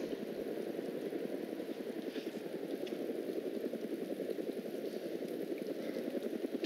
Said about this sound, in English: The helicopter is moving out,